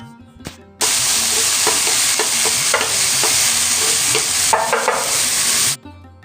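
A spice tempering with bay leaf sizzles loudly in a pan, a dense continuous hiss broken by spatula scrapes and taps, starting abruptly and cutting off near the end.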